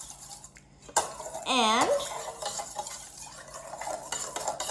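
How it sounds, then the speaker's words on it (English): A whisk stirs activated yeast mixture for focaccia in a bowl, scraping and clinking steadily and close by, while a person talks over it. "then we're just gonna whisk it a little more"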